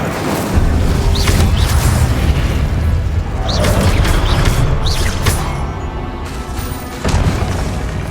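Spell blasts from the video game Hogwarts Legacy, including fire, blasting, freezing and shield spells, arrive as a loud run of heavy booms and bursts that overlap and swell, with brief gaps between volleys.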